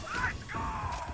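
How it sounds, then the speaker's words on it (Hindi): A quick mechanical weapon reload in the Valorant shooter game, a short clack and ratchet-like click close up over faint background hum. "मैं रीलोड कर रहा हूं"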